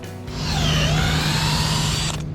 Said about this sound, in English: So we're drilling little holes into the tree